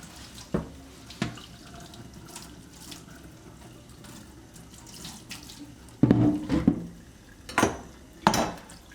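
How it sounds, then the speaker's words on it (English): A kitchen tap runs low into a sink, giving a steady stream of water with intermittent clinks and knocks of utensils and a cutting board being rinsed and wiped nearby. "Turn the water on, nice and low."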